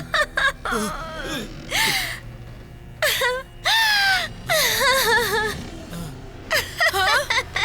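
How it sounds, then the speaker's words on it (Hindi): Wailing, sobbing cries with gasps from a storeroom in a cartoon school at night, several rising and falling moaning bursts in a row, fairly loud and close with no talk. "तभी अचानक उसे ब्लॉक बी स्टोर रूम से किसी के रोने की आवाज आई।"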